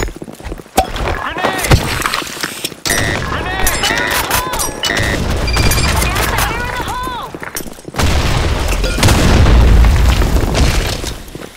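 Grenade blasts boom in the shooter Blackshot, loud heavy explosions mixed with gunfire bursts and an intense final blast, with voices heard over the action.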